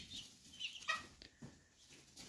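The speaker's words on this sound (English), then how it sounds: "that was a chicken noise" A chicken clucks a few quick, faint notes in a quiet room, brief and somewhat distant, with no voices.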